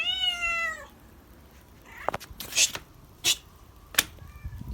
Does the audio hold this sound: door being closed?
no